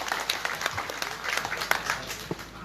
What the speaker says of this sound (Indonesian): Silakan tepuk tangan untuk Ustadz Hanafi.